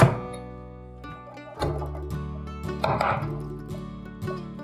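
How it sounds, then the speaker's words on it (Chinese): A knife chops taro on a cutting board, giving several crisp, close blade knocks with uneven spacing. No one speaks. "把芋头切片， 把芋头切条，换一个方向，切丁"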